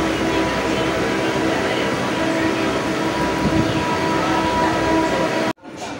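A late passenger train on the Howrah South section runs into Rajnagar with a steady, loud rumble and rattle of carriages heard from on board, cutting off abruptly near the end.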